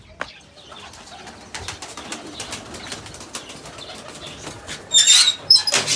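Pigeons flap their wings in quick bursts of clattering flutter, growing louder and busier toward the end, with no voices present.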